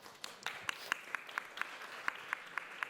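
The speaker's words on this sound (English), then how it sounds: "Big round of applause, please." Steady, evenly spaced hand claps from an audience at a startup pitch investor panel, fairly faint and sparse, keep a regular beat throughout.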